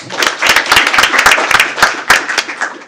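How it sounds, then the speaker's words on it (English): A school board meeting audience gives a speaker a round of applause, dense close claps with a few sharp individual hand strikes, loud and steady throughout. "Let's give her a big round of applause."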